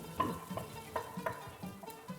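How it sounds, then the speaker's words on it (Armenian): Fried ingredients are stirred into a pot of bozbash soup, giving soft scattered clinks and faint sizzling bursts, quiet and close with no talking. "Ավելացնում ենք տապակված մթերքները։"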